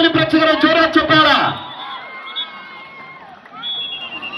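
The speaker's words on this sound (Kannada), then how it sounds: "ಅಲ್ಲಿ ಚಪ್ಪಾಳೆ ಬರಲಿ ಪ್ರೇಕ್ಷಕರ, ಜೋರಾದ ಚಪ್ಪಾಳ" Spectators at a Haryana versus Bharamati kabaddi quarter-final raise a loud burst of shouting and cheering that drops after about a second and a half to a quieter, lingering crowd murmur.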